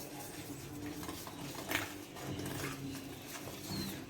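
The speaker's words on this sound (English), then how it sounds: "Whisk it." A whisk scrapes and clinks through a rice flour and water batter in a bowl, a steady close-up stirring with small utensil clatters and no talking.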